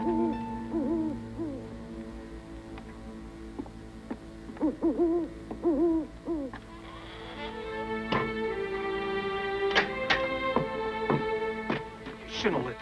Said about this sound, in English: Just an old barn owl.